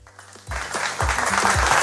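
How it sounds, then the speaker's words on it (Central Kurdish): Studio audience applause on a quiz and prize show, broad steady clapping that swells after a brief quieter start, with music tones running underneath. "هاوڕێن چەپڵێکم پێشکەشکەن"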